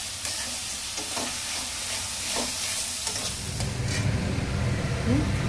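Masala with sugar being stir-fried for chitol fish muitha, a steady sizzle under scraping stirs of a spatula, the frying growing slightly louder toward the end, with no talk.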